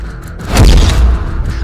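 An explosion sound effect in a Hindi news report about a blast in Tehran: a loud, deep boom that swells and rumbles for about a second, preceded by a brief rising whoosh, with no voices over it.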